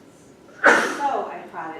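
A single sharp sneeze bursts out close by in a quiet room, followed by a brief trailing breath, with a person speaking faintly before it.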